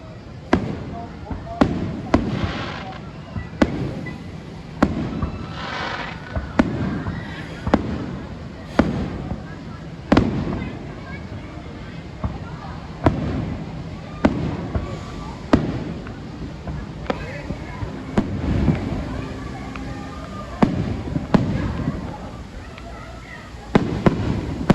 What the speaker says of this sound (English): There are the fireworks going off.